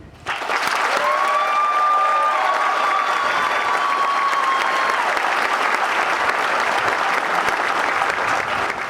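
A crowd at a community college commencement in Warren County, New Jersey, breaks into sustained, loud applause, with clapping filling the space for several seconds and a few whistles over the top.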